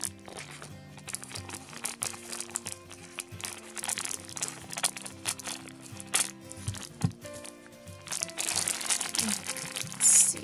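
Rilakkuma Re-Ment miniature set packaging being torn open, loud close crinkling and crackling of plastic and paper in uneven bursts, growing busier toward the end.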